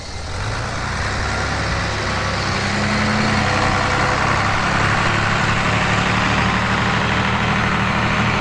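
A tractor engine runs steadily throughout, a loud, close, low rumble that swells slightly after a few seconds, with no talking over it.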